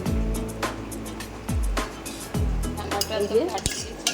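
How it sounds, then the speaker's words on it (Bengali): A spoon scrapes and clinks against a pot while gathering freshly split chhana (paneer) into a lump, with several close metallic scrapes and knocks and a voice talking over them. "ভালো করে চামচ দিয়ে এক জায়গায় করে নিচ্ছি যাতে একটু ডেলা টেলা হয়ে যায়"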